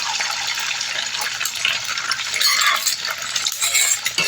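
A metal utensil scrapes and stirs hotdog into sinangag fried rice in a pan. The close, steady clatter and rustle runs throughout alongside a faint sizzle.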